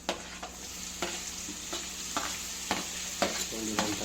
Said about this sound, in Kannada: ಸ್ವಲ್ಪ ಇದಕ್ಕೆ ಹೆಚ್ಕೊಂಡಿರೋಂತಹ ಟೊಮೊಟೊ ಬೆರೆಸ್ಕೊತಾ ಇದ್ದೀನಿ